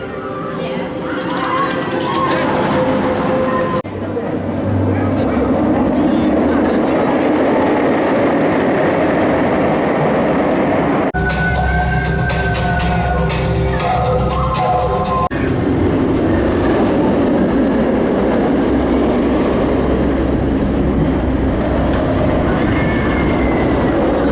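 A Stealth roller coaster train passes at Thorpe Park, a loud roaring rush with rattling and wheel noise that swells for several seconds amid a busy, noisy park backdrop with people talking.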